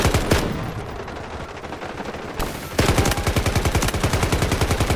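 Rapid automatic gunfire in the Delta Force video game, loud and close, with a short burst, a pause of lighter noise, then a sustained fast rattling stream of shots.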